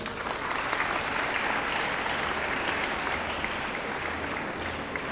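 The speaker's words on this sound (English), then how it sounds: "A big round of applause for this." Sustained, dense applause from an audience at a school welcome event for a visiting politician, steady and loud throughout with no voices over it.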